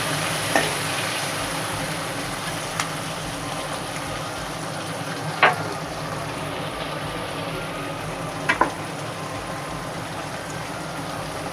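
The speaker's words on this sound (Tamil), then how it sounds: "கட் பண்ணி வச்சுருக்கிற பூண்டு எல்லாத்தையும் சேர்த்துட்டு நல்லா வதக்கணும்" Onions and chopped garlic sauté in a pan for Chennai vadacurry, a soft, steady frying hiss with a few sparse spatula taps, fairly quiet and without speech.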